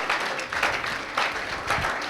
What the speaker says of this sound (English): You've eaten, clap for yourselves.